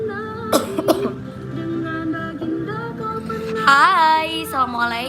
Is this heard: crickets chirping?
no